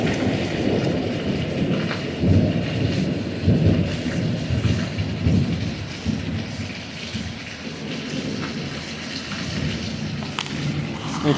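Heavy tropical-storm rain pours steadily onto surfaces on an island under flash-flood warning, a dense constant roar with low thunder rumbling through it, loud and close with no voices.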